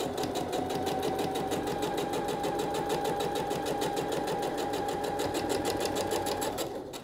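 A sewing machine stitches a hidden hem on a blouse, running in a steady, rapid, even whir close by for the full seven seconds without pause or talk.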